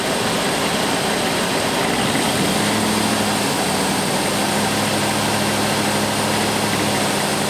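Ford engine with EEC-IV ignition held at raised RPM, a steady dense roar with a constant drone and no clear rhythm, loud and close throughout, with no talk.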